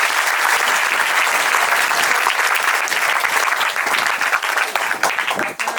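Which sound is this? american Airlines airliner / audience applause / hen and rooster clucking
audience applause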